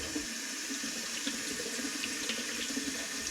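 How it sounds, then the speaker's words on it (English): Warm tap water runs steadily onto the top of a Nike Pegasus Trail 2 Gore-Tex trail shoe, a continuous close splashing hiss with no talk over it. "put my hand inside the shoe while I'm running the water onto the top of the shoe"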